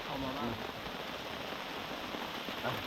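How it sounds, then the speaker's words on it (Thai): Heavy rain pours steadily beside a stream at a riverside camp, a dense, even hiss of falling water filling the scene, with faint voices or other sounds briefly surfacing. "ฝนก็ ตกอีกแล้วนะครับผม ก็ตกค่อนข้างที่จะ หนักขึ้นเรื่อยๆนะครับ"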